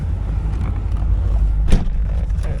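A 1995 Chevrolet Corvette C4 with an LT1 V8 drives along, a low steady engine rumble with wind buffeting and a brief sharp knock partway through, heard close without any talking.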